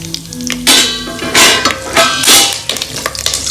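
Mustard seeds spluttering and popping in a hot pot during tempering for mango rasam, with sizzling bursts that swell and fade several times in close succession.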